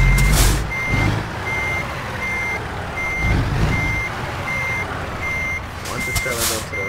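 Truck in American Truck Simulator backs up with a trailer, its reverse alarm beeping in an even steady rhythm over engine rumble, with a hiss of air brakes near the end.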